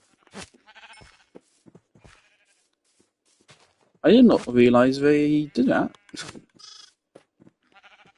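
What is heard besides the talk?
sheep bleating in Minecraft video game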